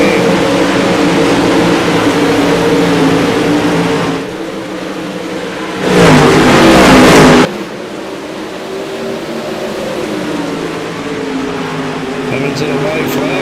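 Late model race cars roar around a dirt track during a Pro Late Model Series B-Main, a steady loud engine drone with a sharp burst of noise midway, under constant excited race commentary.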